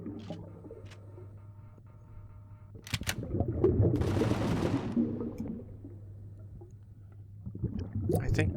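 An automated base turret fires in the Empyrion Galactic Survival game, giving sharp distant shot cracks and a noisy burst of rapid fire over a steady low machine hum, then a quieter lull before more shots near the end.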